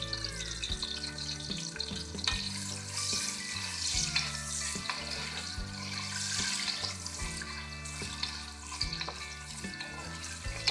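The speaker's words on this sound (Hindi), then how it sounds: "सबसे पहले हम बेल पेपर यानी कि शिमला मिर्च फ्राई करेंगे।" Bell peppers (capsicum) fry steadily in a pan as vegetables are cooked one by one for Singaporean rice, giving a continuous close sizzle and hiss that runs under melodic background music throughout.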